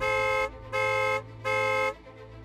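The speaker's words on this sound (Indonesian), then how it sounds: "bunyikan klakson 3 kali" Three long, loud blasts of a mining-site vehicle's horn before reversing, with brief gaps between them, sounding steady and close.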